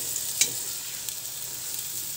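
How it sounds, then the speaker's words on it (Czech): Chopped onion sautés lightly in a light-coloured pan, a soft steady sizzle with a few faint crackles and a brief stir, close up. "Vezmeme světlomenou vařičku a cibulku zlehka osmahneme."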